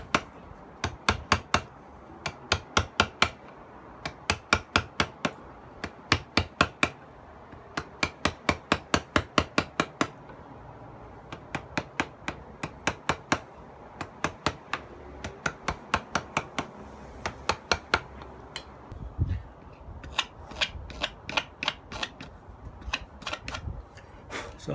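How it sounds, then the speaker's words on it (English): A wooden feast bowl being hollowed out with a gouge, sharp knocking strikes arriving in quick bursts of several blows, then pausing, repeated steadily throughout with no talking. "So after I've taken some of the material out with that gouge"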